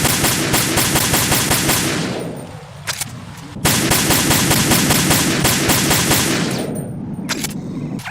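SOCOM pistol gunfire in Metal Gear Solid 2 comes as rapid, loud, evenly spaced shots in two long bursts separated by a brief lull.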